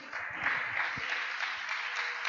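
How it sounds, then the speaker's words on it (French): A church congregation breaks into steady applause at a French-language service, a continuous patter of many hands clapping close by for the full stretch. "Est-ce qu'on peut applaudir la parole du Seigneur?"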